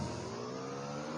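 A motorbike engine revving in the video game PUBG, a short steady mid-pitched drone with a tonal hum, heard alone without talking.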